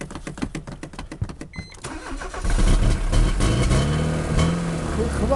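A car engine cranks in a rapid, stuttering rhythm for a couple of seconds, then catches and runs with a loud, rough idle that rises into revving, close to the recorder.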